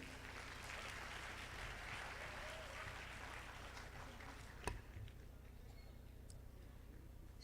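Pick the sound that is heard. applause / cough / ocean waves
applause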